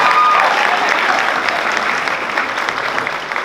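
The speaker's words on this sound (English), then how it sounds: "Let's give them another round of applause." An audience at a youth of the year awards event bursts into loud, dense applause that fills the room, steady and close before easing slightly toward the end.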